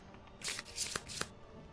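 A deck of cards gets a triple shuffle at the table, three quick riffling bursts in close succession, crisp and near.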